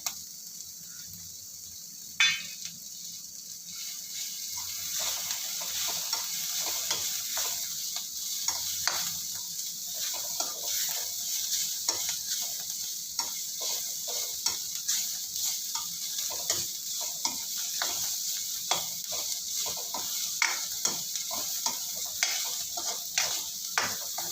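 Ginger frying in a pan for chana masala, a steady hiss of sizzling oil broken by repeated sharp taps and scrapes of a stirring spoon, close and clear, with no talk.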